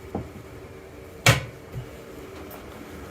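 A drawer in a 2021 Outdoors RV TRX24 trailer slides open or shut with one sharp wooden clack near the middle, a softer knock following shortly after in a quiet interior.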